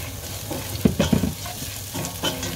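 Garlic frying alongside ginger in a pan for Filipino ginataang monggo, a close, continuous crackling sizzle with brief louder spatters as it is stirred.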